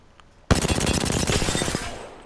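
CAR submachine gun firing in the video game Apex Legends, one sudden, loud, rapid burst of closely spaced shots lasting about a second and a half, then trailing off.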